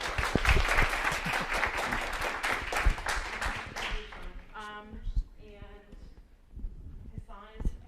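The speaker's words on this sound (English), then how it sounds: "give one more round of applause" Audience applause at a conference session, dense clapping for the first four seconds that thins into scattered claps as a speaker's voice takes over.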